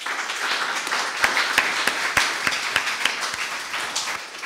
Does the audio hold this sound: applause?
yes